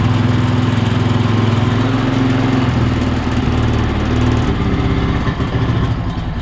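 A ranch quad engine fitted with a homemade snorkel runs loud and close, a steady low chugging drone that falters and shifts near the end as it struggles for air.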